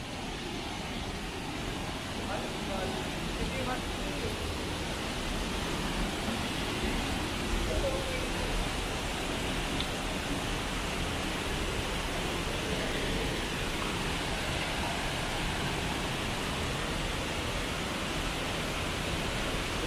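Nacali Falls waterfall in San Lorenzo Ruiz, Camarines Norte, a constant broadband roar of rushing water that holds unchanged throughout, dense and fairly close.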